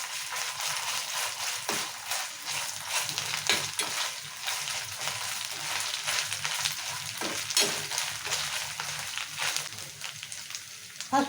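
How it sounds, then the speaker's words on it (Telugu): Green chillies, ginger and garlic frying in hot oil, a loud continuous sizzle with occasional stirring clatters throughout. "2 నిమిషాలు నూనెలో వేయించుకున్నాం"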